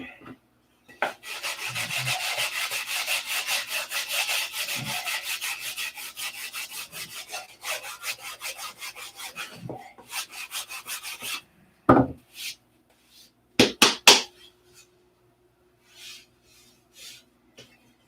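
Wood is hand sanded with 80 grit sandpaper in a series of steady back-and-forth rubbing strokes that hold for about eleven seconds, close and fairly loud. A few sharp knocks and light taps follow in a quiet room.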